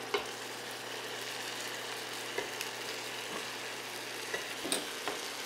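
Steady sizzling and frying of paneer in a hot pan over high flame, with scattered scraping clicks of stirring, close and continuous, no talking.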